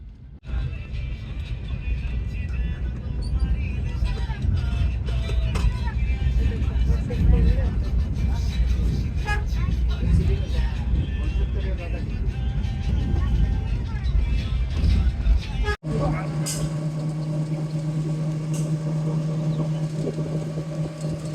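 Ashik Express bus driving on a hilly, up-and-down road toward Cox's Bazar, its engine a low continuous rumble with road noise beneath a person talking, then a brief thump and quieter hum.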